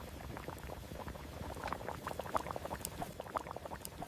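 Pangat with lapu-lapu and salmon boils in a pot, a steady close bubbling and popping of liquid throughout, with no talking.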